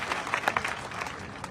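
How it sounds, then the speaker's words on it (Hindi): Crowd applause at a political gathering of the Azad Samaj party in honour of a senior leader and former legislator, a short burst of scattered clapping with a few louder claps near the start, fading within about a second and a half. "उनके लिए एक बार जोरदार तालियां सब साथी करें।"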